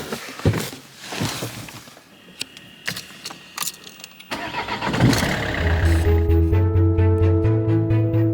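A car's engine cranks and catches, settling into a steady idle while hooked up to a towing trailer, preceded by clicks, knocks and door or key handling sounds close by.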